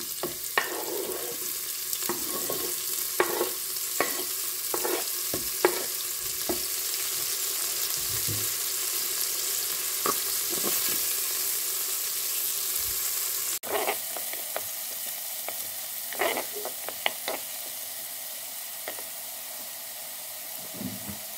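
Leek sizzles steadily in hot oil, a constant bright hiss punctuated by scattered clicks and scrapes of stirring in the pot.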